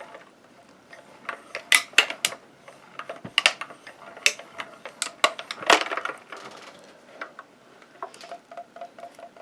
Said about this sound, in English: I'm going to put my top plate on. And I'm going to run that through the machine.